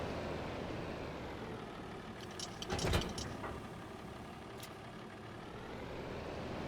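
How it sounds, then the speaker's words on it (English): In Farming Simulator 25, a tractor hitches up a trailer: a low engine idle runs throughout, broken around the middle by a short metallic clunk and rattle of the coupling, followed by a faint click, with no talking. "Hook the trailer up to the tractor, I mean."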